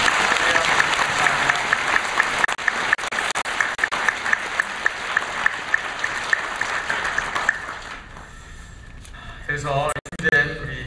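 A church congregation claps together in steady, dense applause for about seven and a half seconds, then it fades as a voice speaks over the quieter hall.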